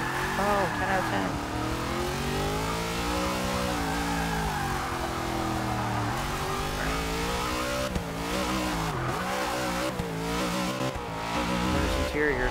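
A 1970 Chevrolet Chevelle drifting in Forza Motorsport 6 revs and whines continuously, pitch sliding up and down through gear shifts, with tire squeal, skids and a wall impact mixed in.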